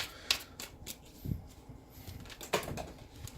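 Tarot cards are shuffled and drawn, giving a few soft papery flicks and slaps spaced irregularly, close and fairly quiet.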